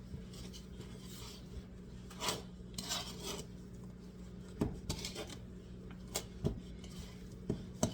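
A spoon stirs thick lemon cream cheese cookie dough in a bowl, producing quiet, uneven scraping and soft knocks against the bowl, with a low background hum.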